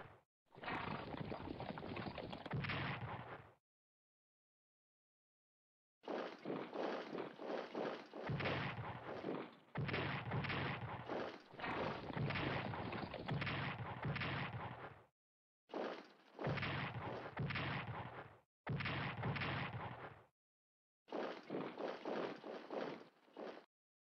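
Artillery fire in the WW2 strategy game Strategic Command WW2, heavy broadband rumbling salvos coming in repeated long bursts separated by short silences, loud and continuous within each burst.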